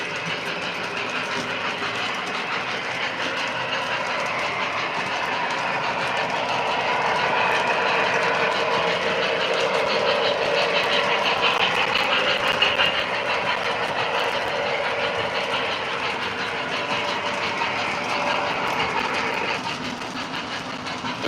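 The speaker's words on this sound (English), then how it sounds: "And with the C630, you can also do Doppler effect too." O scale model train C630 locomotive sound effects playing a rumbling diesel drone with rail clatter that swells and fades in a Doppler-style pass, steady and fairly loud with no talk.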